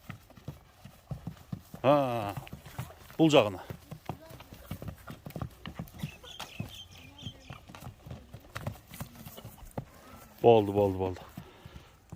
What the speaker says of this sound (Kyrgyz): Бул экинчи ат достор